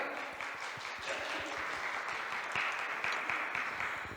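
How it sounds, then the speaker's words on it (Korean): A crowd claps steadily for several seconds at a statistics workshop, a dense, even patter of applause heard from within the room. "큰 박수로 환영해 주세요"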